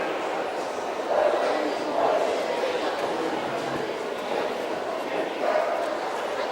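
A Chow Chow at a show-ring breed judging gives a few soft, muffled yips and woofs in a reverberant hall, with a commentator talking over them.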